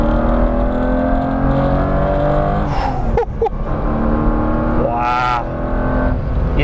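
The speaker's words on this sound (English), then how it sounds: "This is actually a fast car. And the thing is, it sounds great." An Aston Martin Vanquish drives on the road, its engine a strong steady hum heard from inside the car, with a brief rise in revs and a couple of short bumps midway.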